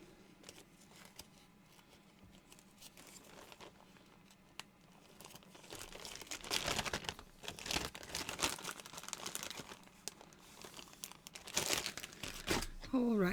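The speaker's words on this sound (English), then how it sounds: "I'm just going to put it back in the bag." A small piece of Palo Santo wood goes back into a crinkly bag, producing loud plastic crumpling and rustling that builds in the second half, with a few scattered crackles earlier.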